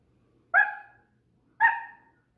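A small dog named Binks gives two sharp, separate barks about a second apart, close and clear against a quiet room.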